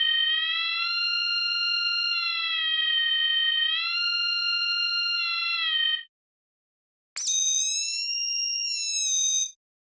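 A synthesizer note shaped with a sustain envelope is held as a bright, whistling tone in long steady stretches, pauses briefly, then jumps to a higher, piercing held tone, mimicking birdsong.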